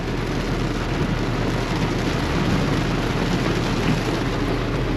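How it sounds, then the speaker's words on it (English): Steady rain falls around a vehicle being backed out and turned at a repair shop, a dense, even hiss with low rumble running continuously and loudly throughout, with no voices. "And it is raining."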